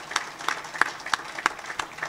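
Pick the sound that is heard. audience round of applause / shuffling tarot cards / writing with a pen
audience round of applause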